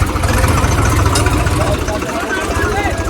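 Two tractors tied to an old Mahindra Thar stuck deep in off-road mud give a steady, loud, close diesel rumble with a chugging low throb that holds evenly throughout.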